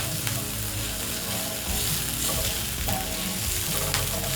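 Minced garlic and a thumb-sized piece of crushed ginger fry in a hot pan, giving a steady, close, continuous sizzle with occasional scraping stirs and no talking.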